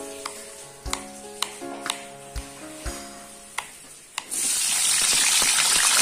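Round eggplant drops into hot oil after a few light knocks and clicks, and a loud, steady frying sizzle takes over and carries on to the end.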